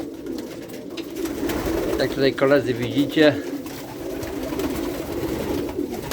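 Soft pigeon cooing in a loft of German Vandenabeele Koopman and Fabry pigeons, a few low burbling calls rising midway, under someone speaking nearby.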